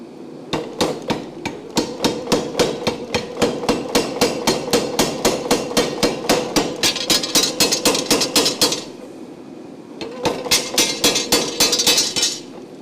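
Power hammer pounding metal in a blacksmith forge, a fast steady train of loud ringing blows for about nine seconds, a short pause with a low hum, then another rapid burst of strikes.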